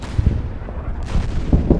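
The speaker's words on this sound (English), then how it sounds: "And the enemy artillery." Artillery fire in the Winter War strategy game Order of Battle at Tali-Ihantala: several heavy booming impacts, two early and two near the end, with a low rumbling bed between them and no talk.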